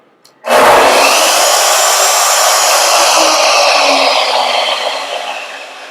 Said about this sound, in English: Saw sounds great, nice and loud, and the switch is working properly.